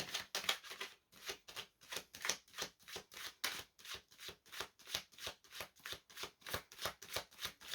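A deck of cards is shuffled for a card reading, with crisp riffles repeating in a quick, steady rhythm throughout, close and alone with no talking.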